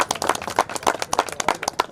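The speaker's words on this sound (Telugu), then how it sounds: "మన మిత్రుడు శంభుప్రసాద్కి ఒకసారి మీ చప్పట్లతో" A seated audience at a school alumni reunion in Sangareddy district claps for a friend, a loose, moderately close patter of hand claps lasting a couple of seconds with no talk over it.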